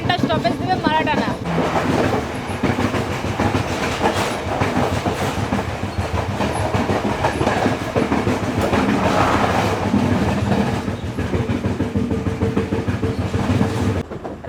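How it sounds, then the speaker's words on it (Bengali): An Intercity Express train pulls out of Gampaha railway station in Sri Lanka with loud, steady rumbling and rhythmic clickety-clack of wheels on rails, heard from onboard, with voices audible amid the noise. "ছেড়ে দিল আমাদের ট্রেন গামপাহা রেলওয়ে স্টেশন থেকে"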